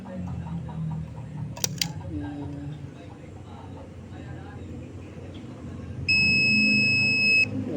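A continuity tester gives one steady, clear electronic beep of about a second and a half as its probes make a connection, following handling noise and a voice speaking quietly earlier.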